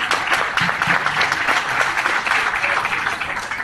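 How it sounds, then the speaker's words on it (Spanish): Sustained audience applause fills a conference hall for Santiago Velázquez, president of Vida Independiente, at a CONADIS Ecuador event; loud, even clapping from a sizable crowd without pause. "te pido un fuerte aplauso para Santiago"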